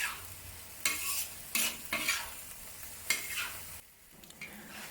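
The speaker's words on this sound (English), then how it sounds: "Add it to the beef and give it a few quick stirs." Beef in a cornstarch sauce for Thai basil beef is stir-fried in a hot pan, with a soft sizzle underneath and several sharp, scraping spatula strokes that come in quick bursts.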